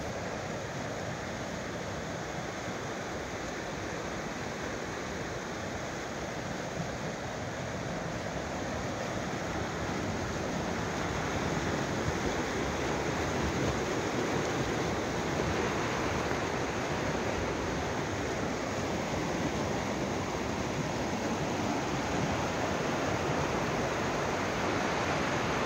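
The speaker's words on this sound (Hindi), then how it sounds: "ये पानी सीधा कटोरा झील से आ रहा है और आगे कुंड बांडा के आबशार में बदल जाता है" Steady broadband rush of a mountain river fed straight from Katora Lake, flowing beneath a small wooden footbridge on the Jahaz Banda trek in Kumrat valley, a continuous close, loud roar that builds slightly over time with no voices.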